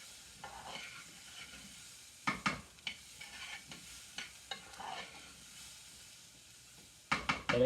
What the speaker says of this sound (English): the fat that is in the pan, we want to try to thoroughly coat the rice with it